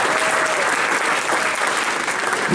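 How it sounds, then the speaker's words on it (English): Audience applause at a school spring concert honoring band students, a steady, dense wash of clapping from a crowd in a hall, sustained and fairly loud throughout with no break. "Give them a round of applause."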